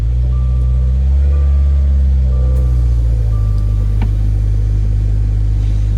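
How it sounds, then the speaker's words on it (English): Car engine idling just after being started before an oil change, a loud, steady low rumble that settles into an even drone. "start our car, let it run for a minute."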